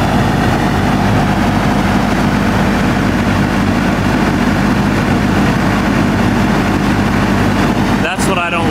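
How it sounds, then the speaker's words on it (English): An idling semi truck engine drones loud and steady at close range, with a heavy low rumble and a constant broadband whoosh like the engine fan running; a voice speaks briefly near the end. "But when the engine fan kicks on, it startles me."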